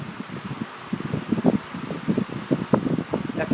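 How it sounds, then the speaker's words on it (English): A 1950s Westinghouse Mobilaire 17-inch electric fan, model AM17-2, runs nearby with a steady rushing airflow and rustling, buffeting gusts that pulse unevenly throughout. "Tell you what, this fan moves an absolute ton of air."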